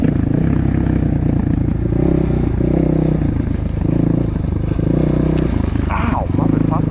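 A Kayo K4 250 dirt bike grinds steadily along a trail in high gear, its engine drone loud and continuous throughout, with brushy clatter and scraping near the end.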